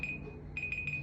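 Workout interval timer beeping at the end of a beginner low-impact exercise set: a steady high electronic tone, then a run of short repeated beeps, clear and close over a low background hum.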